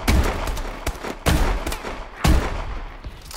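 Shotgun blasts ring out in the shooter game Advanced Warfare, three loud, booming shots spaced about a second apart, each leaving a short rumbling tail, with no talk over them.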